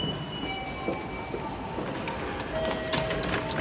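A train in Japan rumbles along steadily, with faint wheel squeals and whines rising toward the end, heard from inside or close by with no talking.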